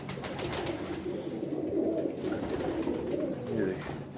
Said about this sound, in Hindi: ये वो कबूतर है